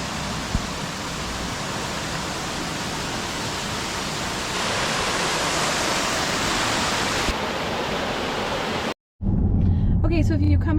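Roaring waterfall in the Columbia River Gorge between high rock walls, a steady loud broadband rush throughout, briefly cut off near the end before people begin talking over the continuing noise.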